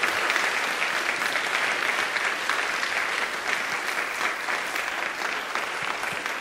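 A church congregation at a youth-group baptism service applauds to welcome the newly baptized, a full, sustained wave of clapping that holds steady throughout without talk.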